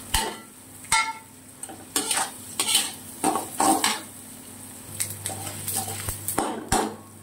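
Metal utensils clink and scrape against a pan as pakoras made with black gram lentils are stirred while frying, with sharp irregular clatters over a quiet sizzle and no talking.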